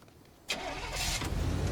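A truck engine in the Teardown video game cranks and catches after a brief silence, then settles into a steady, close mid-pitched idle.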